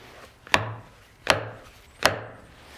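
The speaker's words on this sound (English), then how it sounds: "the difference in the sound of the chisel." Three sharp, evenly spaced wooden strikes, like a mallet driving a chisel into wood, each a crisp knock with a short woody thud.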